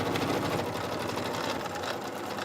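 A sewing machine runs a long basting stitch along a jacket seam, a close, continuous whirring at even speed with no talking.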